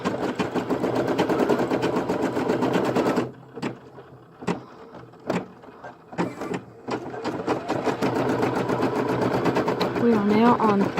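A computerized embroidery machine stitching a design converted from a photo, working in black thread; loud, rapid mechanical needle chatter runs steadily, briefly easing into a few separate clunks before resuming its continuous stitching rhythm.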